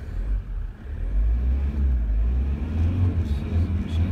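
A Hyundai Grand Starex van, with a fault causing smoke, poor throttle response and knocking, has its engine revved, giving a deep, loud rumbling roar that swells and holds up close, with a faint voice briefly in the background.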